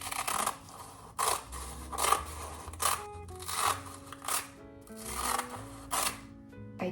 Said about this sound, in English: Next, I cut nori sheets into smaller squares.